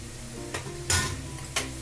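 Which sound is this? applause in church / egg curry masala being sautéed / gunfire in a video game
egg curry masala being sautéed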